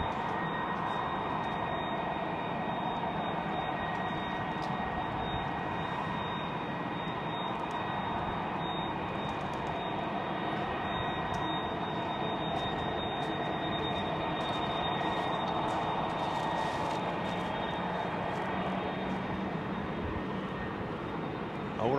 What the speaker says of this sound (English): It's either a 767 or an old Pratt & Whitney powered 330 or something.